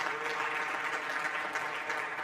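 A packed audience clapping continuously at a mayor's 2022 State of the City address, a dense, even roar of applause without pause.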